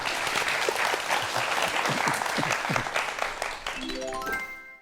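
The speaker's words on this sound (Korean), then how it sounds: "로봇의 다양한 활약상 박종호 교수님의 강연을 청해 보도록 하겠습니다. 박수 부탁드립니다." An audience at a Korean science lecture on robots applauds to welcome the professor, the clapping dense and loud at first, then thinning out as a rising musical tone sweeps in at the end.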